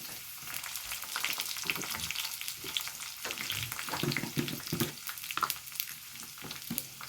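Fenugreek, mustard seeds and dried red chillies frying in hot oil, a steady close sizzle with soft crackles and occasional stirring scrapes, no voices.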